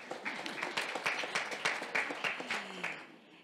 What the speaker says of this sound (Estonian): ja aplodeerige.